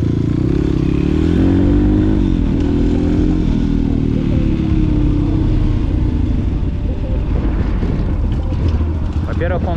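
A pit bike with a cracked frame and an engine that holds its revs unevenly and jerks, heard while riding: a loud, continuous engine drone with shifting pitch and wind buffeting throughout.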